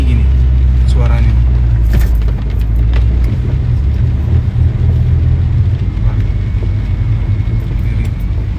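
A car engine held in first gear during a driving lesson, with the clutch let out too quickly for the throttle: a loud, close, continuous low rumble that rises slightly, with people talking over it.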